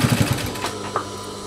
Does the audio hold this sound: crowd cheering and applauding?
no